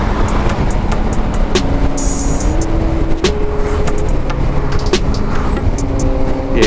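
A Piaggio MP3 500 LT Sport scooter rides loud and steady through traffic while overtaking, with engine drone and wind roar constant throughout and a rising engine tone as it accelerates past.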